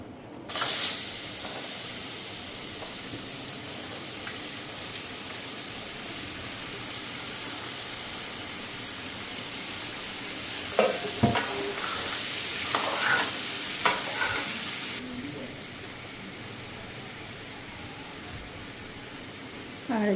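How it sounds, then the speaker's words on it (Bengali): Spices and ash gourd fry in a pan with a loud, steady hiss of sizzling oil and occasional stirring scrapes, close by and continuous with no talking. "মশলাটা একটু ভাজা দিলে যে গন্ধটা সুন্দর আসবে।"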